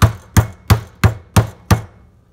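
A meat mallet pounds a pork loin flat on a board, six firm, evenly spaced thuds about a third of a second apart, loud and close with no talking.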